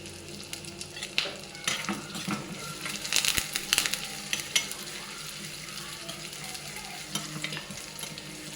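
Shallots, curry leaves and red chillies sizzling in hot oil for a Kerala chicken curry, a steady frying hiss with scattered spatula scrapes and clinks against the pan, close and alone.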